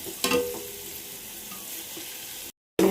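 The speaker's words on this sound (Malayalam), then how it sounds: "ഇഞ്ചി വെളുത്തുള്ളി പേസ്റ്റ് ഇട്ടു ഇളക്കി കൊടുക്കാനേ" Ginger garlic paste fries with a steady close sizzle, with a brief scrape of stirring near the start, then cuts off abruptly near the end.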